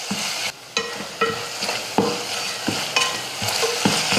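Tomatoes with asafoetida and turmeric sautéing in a pan, a steady sizzle broken by repeated scraping stirs at roughly half-second to one-second intervals, close and clear.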